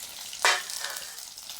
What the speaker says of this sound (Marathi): तेल गरम झाले त्यात अर्धा चमचा मोहरी टाकू अर्धा चमचा जिरे आपण हा लसूण आहे बारीक चिरून घेतलेला हा लसूण टाकून देऊ